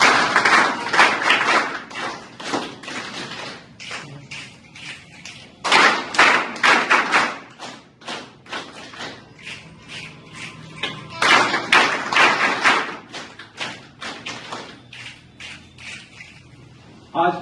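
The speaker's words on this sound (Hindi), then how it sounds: "Special claps go." A hall audience performs special rhythmic claps at a motivational event, bursts of many hands clapping together in patterned groups, loud and close, with short pauses between rounds.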